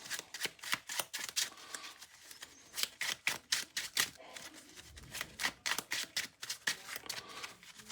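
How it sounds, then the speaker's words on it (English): Rapid riffling of playing cards being shuffled, a quick run of crisp flutters repeating in bursts, close and fairly loud with no talking. "Let's first shuffle."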